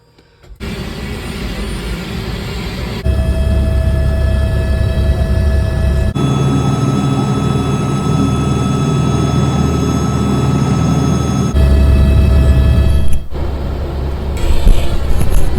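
A helicopter's loud, steady engine and rotor drone, heard from inside the cabin on a Himalayan flight from Dehradun, shifts in pitch and intensity a few times and never lets up.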